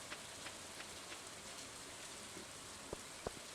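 Green rain falls in Stardew Valley, a soft, steady hiss of rainfall with a few faint drips and light clicks toward the end.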